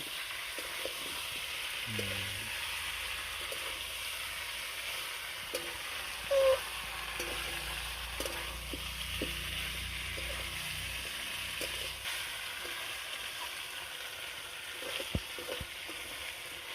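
Fried potatoes stirred in a pan over a wood-fired earthen stove, a soft continuous sizzle with occasional scrapes and knocks of stirring, faint and steady.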